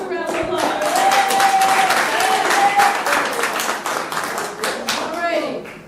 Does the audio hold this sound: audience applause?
yes